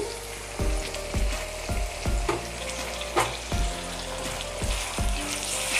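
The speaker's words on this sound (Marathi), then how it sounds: "आणि तेलावरती ना छान भाजून घ्यायचं" Ginger-garlic paste, onion and tomato frying in hot oil, a loud close sizzle broken by repeated stirring scrapes at a steady irregular rhythm, no talk.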